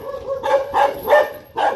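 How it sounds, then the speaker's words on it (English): Dogs bark nearby in four loud, sharp barks spaced roughly evenly, with no talking. "Meet our dogs."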